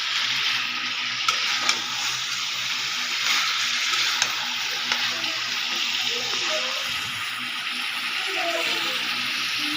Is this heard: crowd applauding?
no